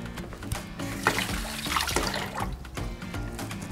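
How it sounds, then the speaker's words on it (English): Water splashed from a tap onto hands in a home kitchen before shaping meatballs, a running, splashing flow with small clatters, close and continuous, no talk over it. "I'm gonna splash some water to my hand"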